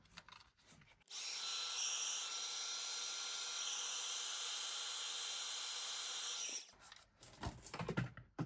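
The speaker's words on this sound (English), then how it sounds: "I'm just going to heat set this" A heat gun heat-sets embossing powder for craft triple embossing, letting out a steady, loud blowing hum for about five seconds between quieter handling sounds before and after.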